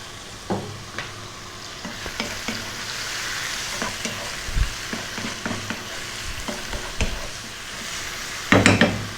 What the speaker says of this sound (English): we're going to just fry this around for about 4 minutes on and above medium heat